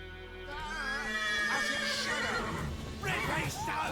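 A horse in The Witcher 3 Wild Hunt lets out a loud, close whinny that rises and wavers over several seconds. Game sound and voices mix underneath.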